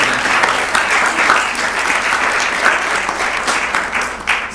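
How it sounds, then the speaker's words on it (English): Audience applause for the temple pujaris at an ISKCON temple service in Phoenix, a steady dense clapping from a crowd that holds loud and even throughout, with no talk over it. "Please give them a big round of applause."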